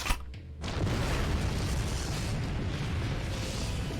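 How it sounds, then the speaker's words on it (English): Grenade blasts from a visual novel game: a sharp boom at the start gives way to a loud, sustained rumbling roar of explosions that fills the rest of the stretch, with no talk. "They break and scatter, explosions at their heels."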